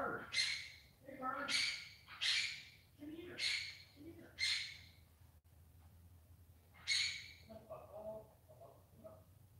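A pet bird squawks repeatedly indoors, about six harsh, rasping calls spaced roughly a second apart, fairly close, with a few softer chirps near the end.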